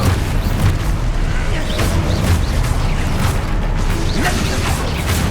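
Explosive spell blasts in the Hogwarts Legacy video game, a loud, dense rumble of booms and crashing debris with brief sharp impacts sitting under the constant roar.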